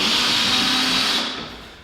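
Power drill driving a screw into a pre-drilled hole in a wooden desk, a close, loud steady whirring hum that holds for over a second and then winds down quickly.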